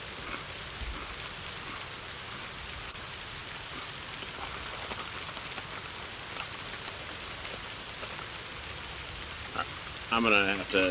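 Rain in the video game Project Zomboid, a steady hiss of drops on surfaces filling the scene, with a brief louder burst near the end.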